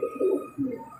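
A racing pigeon coos close by, giving two or three soft, throaty pulses in about a second.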